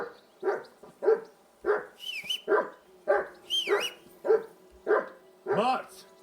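Repeated dog barks in Kingdom Come Deliverance 2, about ten evenly spaced woofs with a few whiny yips, fairly close and loud, with a brief game voice in the middle.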